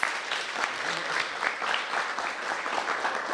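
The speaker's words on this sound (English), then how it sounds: "Give him a round of applause" Applause from an audience at a mayoral announcement event in Washington, D.C., a steady dense wash of clapping sustained throughout at moderate level.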